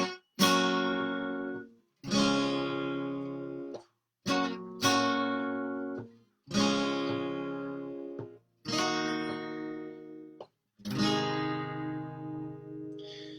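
Chords from a song are strummed on a guitar in an easy pattern, six ringing strummed chords roughly two seconds apart, each decaying before the next, close and solo with no voices.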